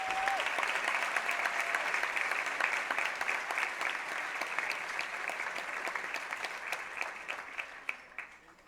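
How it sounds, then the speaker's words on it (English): Graduates at a graduation ceremony receive a sustained round of applause from a crowd, steady and dense for several seconds before gradually thinning out at the end. "Please give yourselves a big round of applause."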